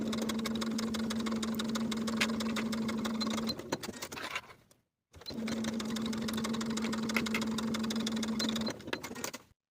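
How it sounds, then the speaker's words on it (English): A sewing machine stitches the shoulder seams of facing pieces for a boxy top, running steadily with a close mechanical whir for several seconds. It stops briefly, then starts again for a second even run. "Then sew these seams at 5/8 of an inch and press the seams open."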